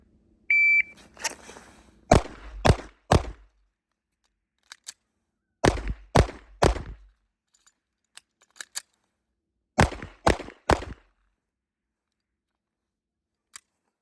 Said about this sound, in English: on the buzzer, we're gonna draw. We're gonna shoot 3 rounds into each target